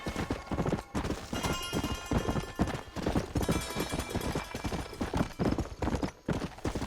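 Horse hooves gallop in a steady, dense clip-clop rhythm, loud and continuous, in the Western video game Red Dead Redemption, with no talk over them.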